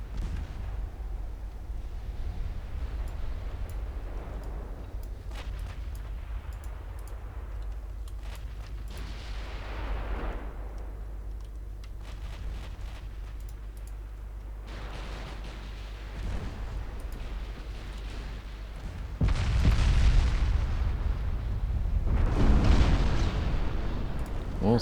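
Naval secondary guns firing and shells striking in a 1925-era warship battle video game, a run of rumbling booms and blasts with a heavier burst of impacts near the end.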